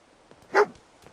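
Dogmeat, the dog companion in the video game Fallout 4, lets out a single sharp bark, close and clear, amid faint soft background sounds.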